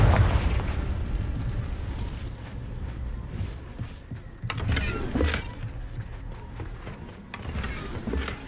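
The Confringo blasting spell in Hogwarts Legacy lands with a loud booming burst, followed by scattered sharp cracks and pops and a rumbling tail, set against a low ambient background.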